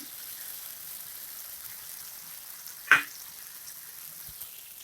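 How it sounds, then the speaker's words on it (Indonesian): Ground chili fries in a pan with a soft, steady sizzle, broken by one brief splash and hiss as thick coconut milk is poured in, then the frying settles back to a low crackle. "Kita masukkan santan kental tadi ke dalam cabai."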